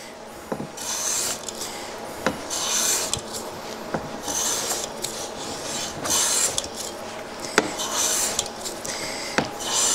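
A hand plane shaving along a wooden board while thicknessing it, repeated rasping strokes about a second or two each in a steady back-and-forth rhythm, close and fairly loud.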